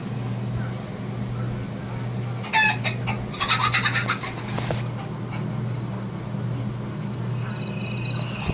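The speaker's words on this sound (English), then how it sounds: "Hey Google, you're a chicken." A Google Home Mini plays a chicken clucking sound, a burst of clucks and squawks from the small smart speaker over a steady electrical hum.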